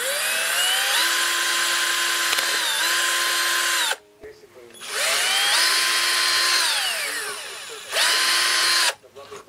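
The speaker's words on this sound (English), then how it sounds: "Drilling out this hole here." A power drill whines up to speed and bores through an air rifle stock in two long bursts, pitch dipping under load, with a brief pause of quiet between them.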